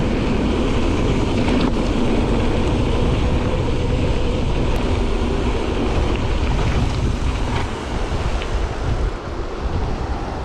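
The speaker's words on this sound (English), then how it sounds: "there's a big jet of water coming out of something up there" A loud, constant roar of water surging through a dam fills the scene, heavy and close, mixed with gusty wind buffeting the microphone.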